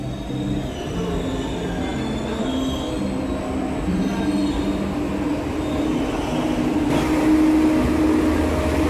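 Malabar passenger train rolling along track 2 at a station, a continuous rumble of wheels on rails with tonal screeching and squealing layered over it, growing slightly louder toward the end.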